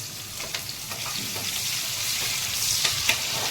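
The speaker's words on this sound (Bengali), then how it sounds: "তো তেলের মধ্যে গোটা গরম মশলা দিয়ে তারপর পেঁয়াজগুলো দিয়ে দিলাম।" Onions and whole garam masala fry in hot oil for a doi katla curry, producing a loud, continuous close sizzle with occasional clicks and scrapes of stirring, with no voices.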